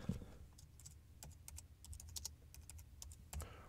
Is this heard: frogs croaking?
no